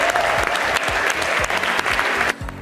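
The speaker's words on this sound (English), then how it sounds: "Please give them a round of applause." A crowd claps loudly and steadily in dense applause, with a few louder individual claps, fading at the very end.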